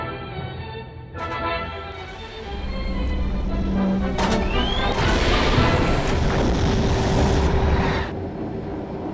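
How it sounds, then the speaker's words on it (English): A torpedo strikes a ship in the submarine game Silent Hunter 4, with a broad rumbling explosion that swells and sustains for several seconds over churning water and ambient noise in stormy weather. "One torpedo hit, and Chief got his wish as well"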